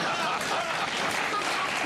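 Studio audience applause at a late-night television talk show hosted by Johnny Carson, a steady, dense wash of many hands clapping filling the whole moment without a break.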